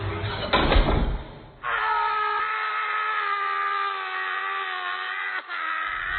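A door slams shut on its own in a narrated horror story: a sharp, heavy bang, followed by a sustained eerie drone that lingers until the end.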